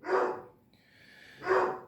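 A dog gives two loud, close barks about a second and a half apart, with a thin high whine or tone in the gap between them.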